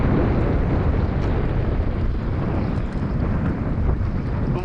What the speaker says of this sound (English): I know it's getting a little windy out here